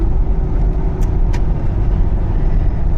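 A car drives along a road with a loud, steady low rumble of engine and road noise filling the cabin, constant throughout.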